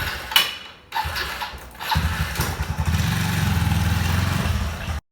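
A motorbike engine running during a ride out on a college holiday, starting with mechanical clicks and rattles, then settling into a steady, close, throbbing drone that cuts off abruptly at the end.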